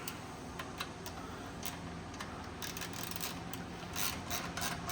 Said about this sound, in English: Take your nut, put it back on. Grab your 9/16 socket.